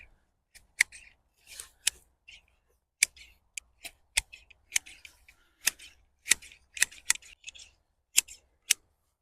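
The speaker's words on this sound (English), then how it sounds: "Now that I've come in and I've cut off that candle" Hand shears pruning a pine, snipping back young candles with a string of sharp, close clicks at irregular intervals, some in quick pairs, over an otherwise quiet outdoor background.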